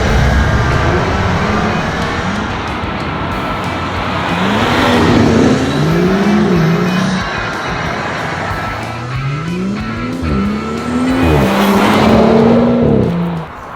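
BMW 2 Series car driving on a road, accelerating in two distinct bursts with its engine pitch climbing through gear changes, loud and close over steady road and wind noise, no talking.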